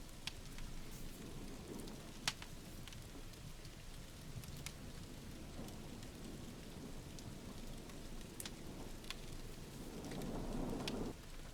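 Rain falling in the SCUM survival game, a steady soft hiss of downpour with occasional faint droplet ticks, continuous and fairly quiet throughout, no talking.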